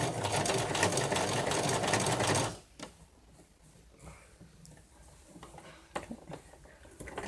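A sewing machine stitches fabric for a stuffed bear in one loud close buzzing run of about two and a half seconds, then stops, leaving quiet handling clicks and rustles.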